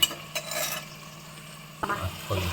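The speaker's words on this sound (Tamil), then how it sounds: "எல்லா காயும் போட்டுட்டேன், கிளறி இருக்கேன்." Vegetables for sambar rice, including carrot, brinjal and potato, being stirred in a pot, with a few scraping clatters over a low, steady background and a soft sizzle.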